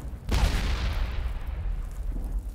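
Mortar strike in the World War I video game Warfare 1917, a single heavy blast with a sharp onset followed by a long rumbling roar that lingers and slowly fades.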